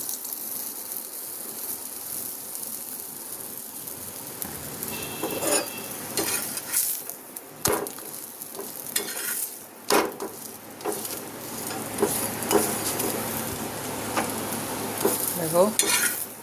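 Sweet paratha flatbread fries in oil in a pan, giving a steady sizzle with intermittent scraping and clinking as it is turned, close up and with no talk.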